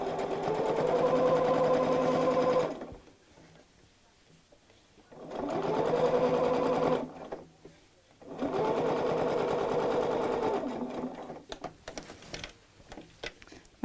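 A sewing machine stitches a craft mat bag in three steady, close runs with brief quiet pauses between them, and no one speaks.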